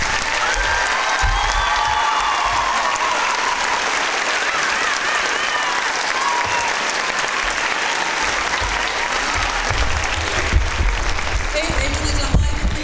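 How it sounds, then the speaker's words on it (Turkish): A dense, loud burst of audience applause with some cheering at a school year-end show, sustained steadily throughout with crowd noise beneath. "Alkışlarınızla."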